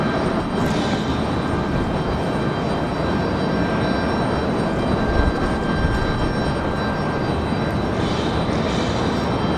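Southwest Airlines jet engine at Raleigh-Durham International Airport, a steady, loud broadband roar with a faint whine held throughout, the airliner running continuously at a distance with no talk.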